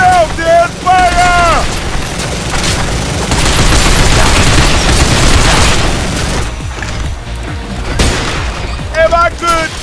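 Gunfire in the Binary Domain video game, loud dense bursts of shots and booming blasts filling the whole stretch, with voices shouting over the battle at the start and end.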